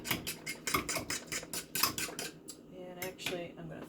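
An egg mixture for French toast is whisked briskly in a dish, with rapid rhythmic clinks of metal against the bowl that slow into a few lighter taps near the end.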